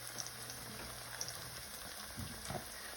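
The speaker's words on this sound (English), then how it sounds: "Simmering nice and good." Fry bread simmering in a pan, a soft, steady bubbling and light crackle, close and continuous with no voices.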